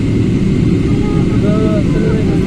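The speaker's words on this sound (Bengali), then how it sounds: "এই বিমান এখন ওটার প্রস্তুতি নিতে আছে যে ঘুরাচ্ছে বিমানটা" A steady loud engine drone fills the whole stretch as a Biman Bangladesh airliner bound for Oman taxis and turns on the ground, with faint rising and falling whines over it.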